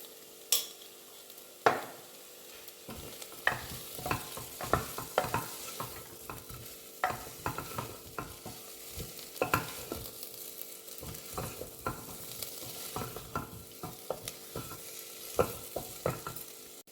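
Curry masala with chili powder stir-fried in a pan, made with young jackfruit in a meat-style curry: a low steady sizzle broken by repeated sharp spoon scrapes and knocks, close up with no voices.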